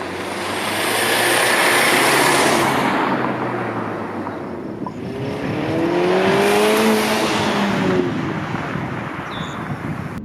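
A 2017-2020 Volvo S60/V60 supercharged engine fitted with an aftermarket intake revs hard twice, each rise swelling into a loud, sustained roar and then falling away, heard from outside the car with no talk.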